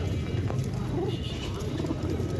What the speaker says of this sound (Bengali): তাহেরপুর কবুতরের হাটের বিভিন্ন কবুতর দেখুন আজকে